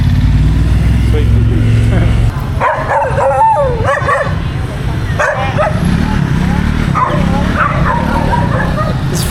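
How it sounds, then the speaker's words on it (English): A dog riding on a motorbike in Ho Chi Minh City barks, yips and howls repeatedly and loudly, close by, over a steady engine and street noise. "he hasn't stopped barking and howling"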